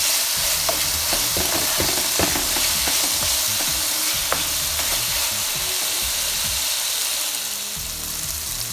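Seasoning frying in a pot for steamed cabbage with okra gives a loud, close, steady sizzle, punctuated by repeated scraping and stirring clicks from a utensil, with no voices.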